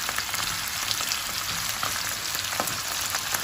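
Sausage frying in a pan with a small spoonful of garlic, giving a steady, dense sizzle and crackle that runs unbroken throughout, close and fairly loud, with no voices.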